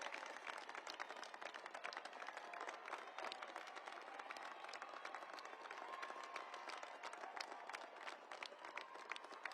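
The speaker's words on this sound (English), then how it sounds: "Stand up and give them a round of applause." A big commencement crowd at the US Air Force Academy applauds the graduates' families, with dense, continuous, fairly distant clapping that keeps a steady level throughout.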